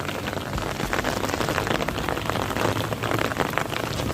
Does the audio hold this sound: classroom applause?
no